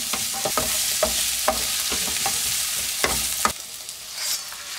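Potatoes go into a hot frying pan of tofu curry base seasoned with salt, pepper and paprika, setting off a steady close sizzle broken by clinks and scrapes of a stirring utensil, the frying easing off near the end.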